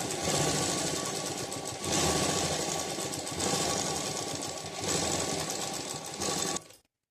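A sewing machine stitching a blouse border runs in steady mechanical bursts, three long runs of rapid needle clatter separated by brief pauses, close and loud, stopping abruptly at the end.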